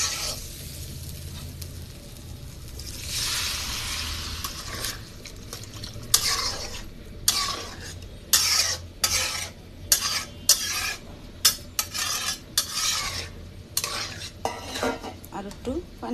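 Pulao rice frying in a pot, a steady sizzle under repeated scraping strokes of a spoon against the pot, the stirring growing sharper and more rhythmic toward the end, close and clear.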